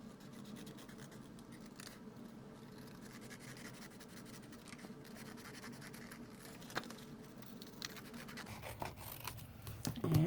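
Scissors snip and scrape through stamped paper while trimming around a folded envelope edge, a soft steady rasp of close cutting with a few sharper clicks near the end.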